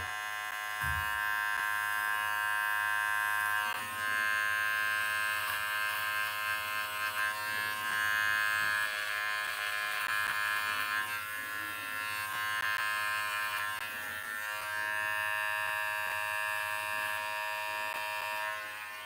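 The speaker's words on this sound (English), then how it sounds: "all I'm doing right now is trimming the hairs that are above the line" An electric trimmer buzzes steadily and close, cutting beard hairs above the cheek line, its tone wavering slightly as it moves across the face, with no talking.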